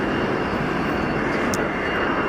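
An easyJet airliner inbound at Geneva Airport roars as a steady, loud, continuous engine rumble without talk.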